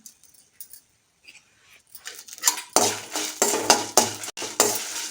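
Mustard seeds, urad dal and coriander dry-roasting in a pan, stirred with a spoon that scrapes and clatters against the metal in quick close strokes after a few quiet taps, with no talking.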